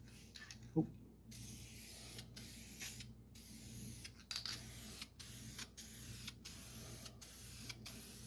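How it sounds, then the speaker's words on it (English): Guide coat being sprayed onto a car's rear quarter panel in a shop, heard as a faint, steady aerosol hiss broken by short regular pauses between passes, with a soft thump early on. "guess I'll get my guide coat on the rest of the quarter"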